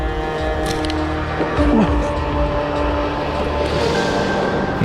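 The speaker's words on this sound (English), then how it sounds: "We were lucky to have found a path just before the next train was passing by." A train passes near a path by an abandoned power plant, a rumbling rush with tonal whines and a brief horn-like tone rising through it, while people talk over the noise.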